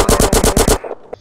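Rapid automatic gunfire from a PlayStation video game, about seven loud, evenly spaced bursts in quick succession, then it cuts off into a brief quiet tail with a faint click.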